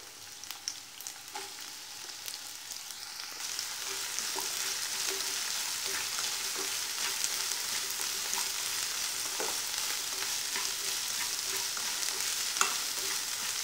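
Two large chopped onions fry in hot oil in a pan, a steady soft sizzle that swells after a few seconds as they are stirred, with occasional scraping clinks, no talking.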